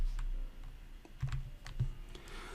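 Soft keystrokes on a computer keyboard as a short field name is entered, a quick irregular burst of clicks with brief pauses, close and fairly quiet.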